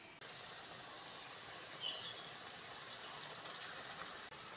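Ground spice paste hitting a hot frying pan while cooking a Bombay duck (lote fish) dish, giving a steady, faint hissing sizzle that holds evenly throughout, with a couple of small crackles.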